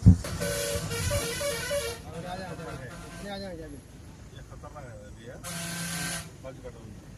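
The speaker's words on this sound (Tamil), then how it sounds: "இப்போ பாருங்கள், ஹாரன் அடிச்சுட்டு வண்டி வரும் பாருங்கள்." Vehicle horns sound on a winding hill road at a sharp turn, a long steady honk followed by further toots and the rumble of an approaching bus or truck, with someone talking over much of it.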